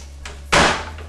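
A door opening or closing indoors, one short, loud bump or slam after a fainter click, with no talk.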